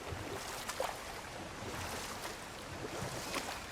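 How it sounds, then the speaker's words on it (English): A waterfall in God of War Ragnarok roars as a steady, broad wash of rushing water, continuous and fairly loud throughout with no voices. "Waterfalls."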